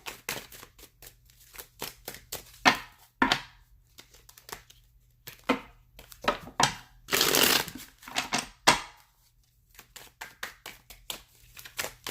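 Tarot cards are shuffled in quick riffling bursts and soft slaps, close and crisp, with short pauses between handfuls and no talking.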